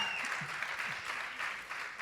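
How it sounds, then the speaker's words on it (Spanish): Audience applause at a conference panel, a moderate, steady patter of clapping with faint voices underneath throughout. "dame un fuerte aplauso"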